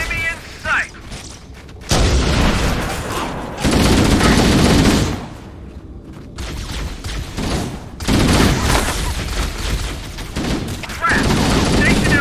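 Stationary guns firing in Halo: Combat Evolved, repeated loud bursts of heavy automatic fire and booms separated by brief quieter gaps, with voices shouting in between.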